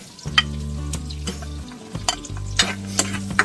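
Chopped onions sizzle in a pan for pork afritada, a close, steady frying hiss broken by several scraping stirs and clinks of a utensil, with a low hum beneath.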